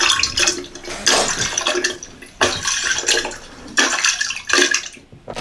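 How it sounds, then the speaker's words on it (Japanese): Water splashes and trickles in three loud bursts separated by short pauses, with drips and gurgles in between; no voices. "なんか水がね、ポタポタ言ってます"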